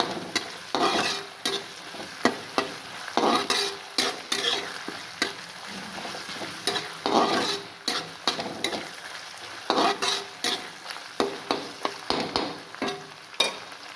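Onions sizzle in a pan as a spoon stirs them in repeated bursts, each scrape swelling the close frying hiss before it settles again, with no voices.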